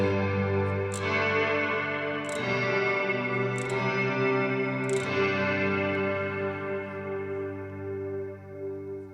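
Electric guitar through a Mr. Black Eterna pedal set fully wet, sustained chords smeared into a thick shimmering wash with several soft strums under the swell, steady and moderately loud, no talking.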